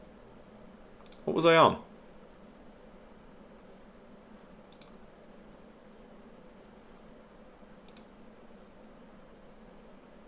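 Two brief computer mouse clicks sound faintly at separate moments in a quiet room, after a short burst of speech.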